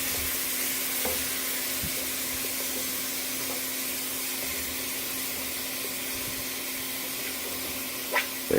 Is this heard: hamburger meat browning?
yes